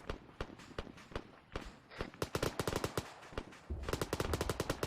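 Rapid bursts of automatic gunfire in a military shooter game, close and loud, with sharp repeated shots in quick volleys and a heavier burst near the end, no talking.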